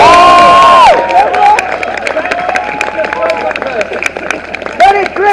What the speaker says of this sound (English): give more cheer for Jeremy Corbyn